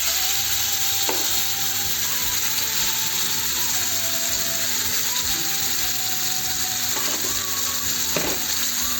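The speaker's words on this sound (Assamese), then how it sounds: "এইফালে এতিয়া ভাজি আছোঁ দেই।" Onion and green chili fry in hot oil with a continuous, close sizzle, broken by occasional metallic scrapes and clinks from stirring, and no one speaking.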